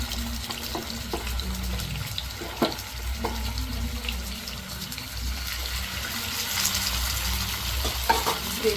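Chicken joints fry in hot oil in a pan, a steady close sizzle with scattered pops and occasional clinks and scrapes of stirring.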